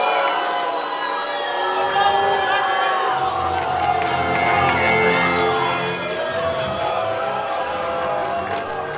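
A large crowd at a Battle of the Nations medieval combat final in Trogir, Croatia, roars and jeers loudly and continuously, with shouts and whoops rising over the sustained noise.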